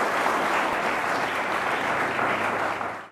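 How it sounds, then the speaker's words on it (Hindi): Schoolchildren at Saint Paul's School give the expert panel a round of hearty applause after a discussion on higher education, an even wash of many hands clapping close by that holds steady and then stops. "एक बार ज़ोरदार तालियां हो जाएं हमारे सभी एक्सपर्ट्स के लिए"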